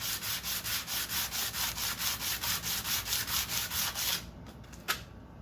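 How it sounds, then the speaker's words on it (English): Steady rhythmic strokes of 180 grit cloth-backed sandpaper rubbing over a homemade small engine intake, close and even for about four seconds, then stopping, with a single sharp knock near the end. "I'm just using 180 grit cloth back sandpaper"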